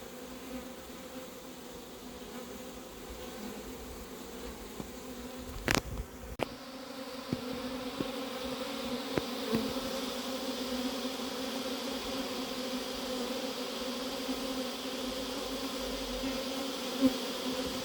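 Steady buzzing of many honeybees from a captured swarm in a cardboard box close by, a constant drone with a few sharp clicks and taps.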